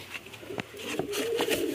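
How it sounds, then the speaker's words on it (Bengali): A pigeon coos nearby in soft, repeated low throaty calls, with a few faint clicks and rustles around it and no talking. "এই তো এরকম কবুতর তেমন পাওয়া যায় না"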